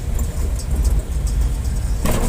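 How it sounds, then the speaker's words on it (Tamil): Continuous road traffic rumble on a busy road, vehicles including load autos passing close by with a low engine drone and a brief swell of hiss near the end. "டிராஃபிக் இல்லைன்னு சொல்லவே முடியாது, அந்தளவுக்கு டிராஃபிக் இருந்துக்கிட்டே இருக்கும்."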